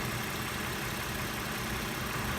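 A Toyota 3.5-litre V6 engine in a 2015 Lexus ES350 idling in a smooth, even drone with a steady low rumble and no revving, heard close up.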